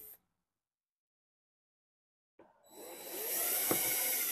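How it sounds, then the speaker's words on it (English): A drill bores a small pilot hole in wood for a frame cage, starting after a brief click and about two seconds of silence, then whirring steadily and loudly close by to the end. "drill a small pilot hole"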